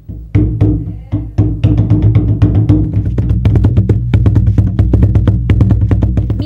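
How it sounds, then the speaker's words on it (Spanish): A wooden tuncur drum with a calfskin head, struck repeatedly in an irregular, quickening pattern, with deep resonant thuds and sharp slaps ringing close and loud. "El tuncur es una copia agrandada de un tambor hallado en Petén."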